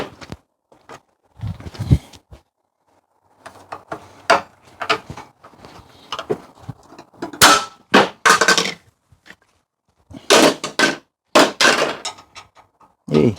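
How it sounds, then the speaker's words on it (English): A power drill spins out Allen bolts from a treadmill being scrapped, sounding as short, sharp bursts of whirring and clanking separated by quiet gaps, close and fairly loud. "Let's see if the drill's powerful enough to take them off."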